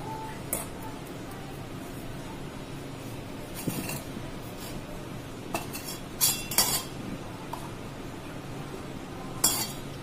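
Powdered sugar being mixed into cake batter in a bowl, heard as soft scraping and a few sharp clinks of a spoon against the bowl over a low background hum.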